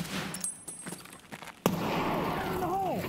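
A grenade goes off in the Escape from Tarkov shooter with a single sudden loud blast partway through, followed by a sustained rumbling roar, after scattered faint clicks and rattles.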